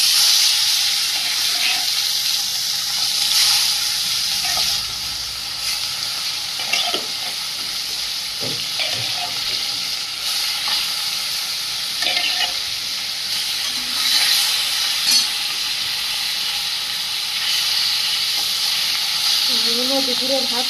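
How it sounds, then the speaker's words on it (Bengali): Fish frying in hot oil in a home kitchen, a steady close sizzle with occasional stirring clatter and hissing spits, with faint voices now and then. "মাছগুলো ভেজে নেব।"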